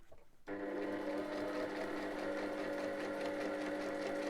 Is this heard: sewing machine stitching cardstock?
yes